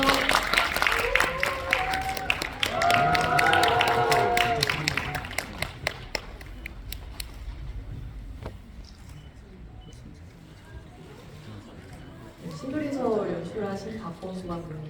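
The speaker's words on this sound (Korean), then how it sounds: "저희 백 박수 한번 부탁드릴게요." Cinema audience at a CGV Yeongdeungpo stage greeting claps and cheers as the director and actors walk in, the applause loud at first, then thinning to scattered claps with voices talking over it.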